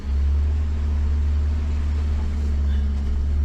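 A GWM 4WD in first gear with diff locks on, low-range, its engine droning in a steady, loud, close rumble as it crawls up a steep hill.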